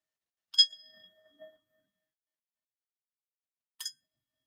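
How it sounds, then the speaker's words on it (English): A small bell is struck twice, bright metallic dings with a short ringing tail, separated by a few seconds of silence. "So I'm going to ring my bell"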